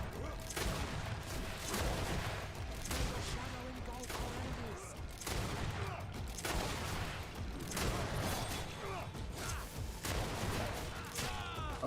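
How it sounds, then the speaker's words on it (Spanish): Bursts of gunfire from the video game Greedfall, repeated shots and rattling volleys with booms, loud and continuous, mixed with game effects. "Vamos a meterle tiros"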